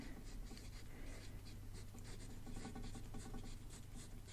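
Pen writing by hand in a weekly paper planner, quiet scratchy strokes in short irregular bursts, close up and faint, with no talking.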